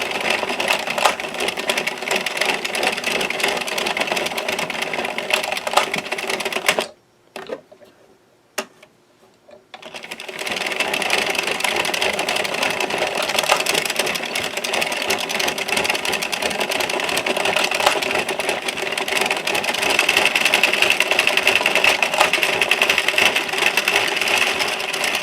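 Knitting machine carriage working waste yarn until the knitting falls off the machine, a steady mechanical clattering run that stops for a few seconds, then resumes and continues evenly.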